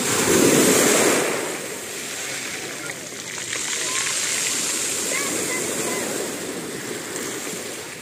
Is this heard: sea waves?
yes